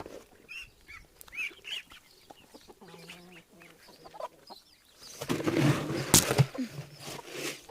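Chickens and chicks clucking and cheeping at feeding time in a backyard coop, with scattered close calls that grow louder and busier toward the end.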